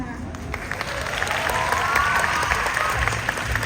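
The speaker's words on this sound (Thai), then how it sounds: "ปรบมือให้น้องไฮดี้ดังๆอีกครั้งหนึ่ง" Sustained crowd applause with some cheering for pageant contestant Heidi at the Miss Grand Phuket 2023 preliminary event, steady dense clapping with a faint voice threading through.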